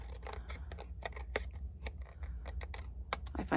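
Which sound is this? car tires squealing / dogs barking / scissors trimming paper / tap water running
scissors trimming paper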